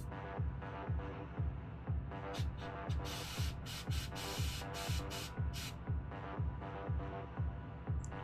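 An airbrush spraying paint onto a miniature in short test pulses, soft hissy bursts repeating over a steady rhythmic compressor throb, close and fairly quiet, no talking.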